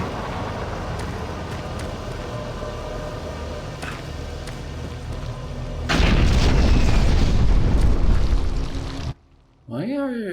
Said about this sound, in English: Why are things in the ceiling exploding?